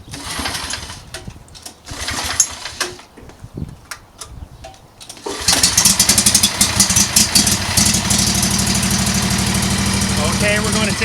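Exmark Viking Hydro mower engine, heard after some clatter and background talk, then firing up around midway and idling steadily with a loud, close rumble.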